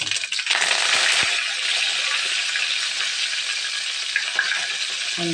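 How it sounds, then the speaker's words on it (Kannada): Curry leaves dropped into hot oil for churumuri chivda crackle and sizzle loudly, a dense, steady frying hiss with scattered sharp pops, close and with no one talking. "ಚಟಪಟ ಅನ್ನತ್ತಾವ. ಈಗ ಕರಿಬೇವು ಹಾಕ್ತೀನಿ."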